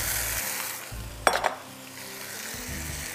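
Boiled egg noodles coated in oil are tossed and stirred in a pan, a low sizzle broken by a sharp scrape and clink of a utensil against the pan midway.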